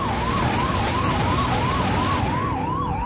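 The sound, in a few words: ambulance siren driving through snowfall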